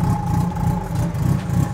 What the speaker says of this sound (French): le moteur, il fait un bruit incroyable